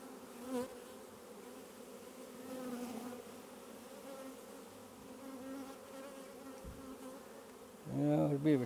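Honey bees buzz around a hive box, a soft, continuous droning hum from many insects with individual bees passing louder near the end.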